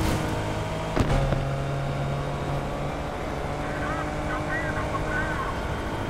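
A police helicopter in the Need For Speed Unbound racing game makes a steady loud rotor and engine roar, with a sharp thump near the start and faint chirps later.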